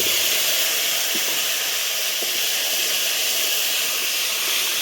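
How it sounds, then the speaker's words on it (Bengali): Taro stolons hit hot oil with a dried red chili and Bengali five-spice, cooking for a light rohu fish curry, giving a loud, steady, close sizzling hiss that runs unbroken with a few faint clicks and no talking. "এই তেলের মধ্যে দিয়ে দেবো একটা শুকনো লঙ্কা এক চামচের মতো দিয়ে দেবো পাঁচ ফোড়ন এরপর ধুয়ে রাখা কচুর বইগুলো দিয়ে দেবো"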